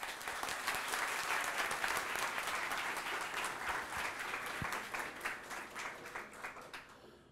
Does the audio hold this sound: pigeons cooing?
no